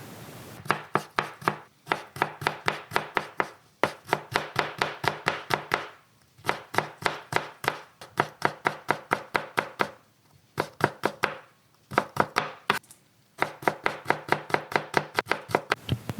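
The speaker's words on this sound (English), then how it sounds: "and the chopping of vegetables." Vegetables are chopped with a knife on a cutting board in rapid, rhythmic bursts of sharp close taps, separated by brief pauses between runs.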